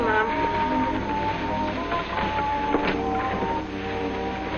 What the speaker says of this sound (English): Isn't it wonderful how this washer does all these heavy things?